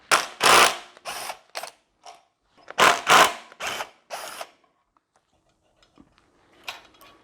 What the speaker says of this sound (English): I'm going to remove these two bolts